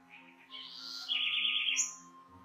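House wren (corruíra) in an urban area, a short bright song of a few rising and falling whistled phrases, close and clear over faint steady background hum.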